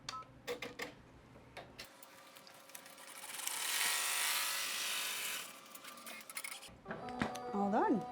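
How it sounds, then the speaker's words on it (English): An embroidery machine stitching out a bean-stitch patch for an in-the-hoop rivet handbag, a steady mechanical buzz of rapid stitching lasting a few seconds, framed by clicks and handling noises and brief talking. "I'm going to pop it back in the machine and stitch out the little bean stitch that makes our little patch"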